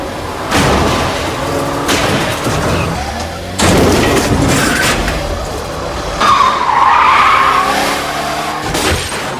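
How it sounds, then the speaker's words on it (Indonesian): Cars race and skid through the streets of Jakarta in a film chase, loud tire squeals and roaring engines in repeated bursts, with heavy booming impacts between them. "Eka adu kebut mobil di jalanan DKI Jakarta"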